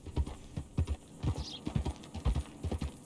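Horse hooves in the Red Dead Redemption video game, a steady, close clip-clop of a walking gait with clear rhythmic paired beats, heard alone.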